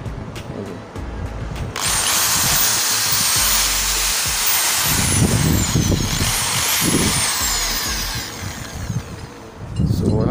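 A hammer drill whines loudly for several seconds, stopping briefly and starting again, with harsh grinding and rattling as it bores in.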